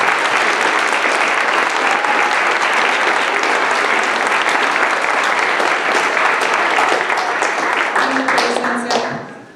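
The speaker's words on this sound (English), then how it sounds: "Give them all a huge round of applause." A school audience gives debate students a long, steady round of applause at the SJS fall exhibition. The dense clapping stays loud and even throughout, then dies away in the last moment.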